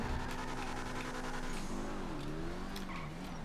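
Emperor ETR1 supercar in GTA Online, a loud, near engine whose steady tone shifts in pitch midway, with faint tire squeal over it.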